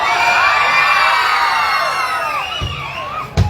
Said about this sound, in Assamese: এই চিঞৰটো কিন্তু এই ল'ৰাবিলাকৰ পৰা বেছিকৈ আহিছে